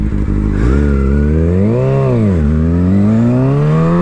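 A motor vehicle engine revs loudly and close by, climbing in pitch, swelling to a peak, dropping back, then rising again in sustained waves with no talk over it.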